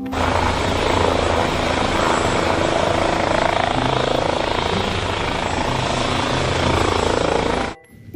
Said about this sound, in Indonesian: Wow, lihat, ada helikopter.